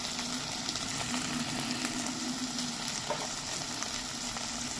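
Mint chicken fries in a pan with steady, close sizzling and occasional light stirring scrapes throughout, continuous and fairly quiet, with no talking.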